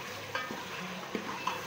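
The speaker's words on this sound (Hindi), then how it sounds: "हमने चिकन को ऐड कर दिया" Chicken fries in a karahi for white karahi with a soft, steady sizzle, and a few light stirring scrapes break in close by.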